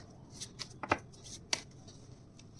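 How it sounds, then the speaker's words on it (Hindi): Tarot cards being shuffled by hand in a quiet room, a few short crisp riffles and slaps spaced across a couple of seconds, close but soft, with no talking. "let's shuffle more"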